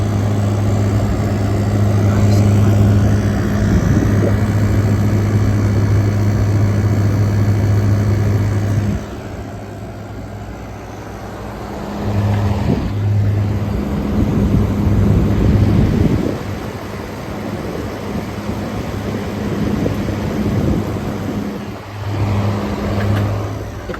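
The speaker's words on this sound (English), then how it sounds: "It's cooling his room, so the compressor is working hard." A small air conditioner's compressor and fan motor run in cool mode on a hot summer day, a loud steady low hum with a droning tone that drops and changes partway through before picking up again.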